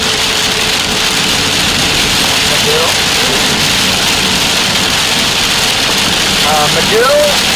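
Heavy rain and strong wind lash down during a severe storm near Holdenville, a steady dense wash of noise filling the whole stretch, with brief tonal chirps riding on top near the end.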